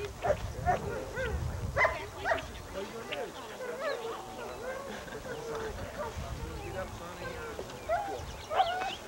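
A dog on its first or second day of training barks, yips and whimpers in short irregular bursts close by, while someone speaks intermittently over and between the sounds.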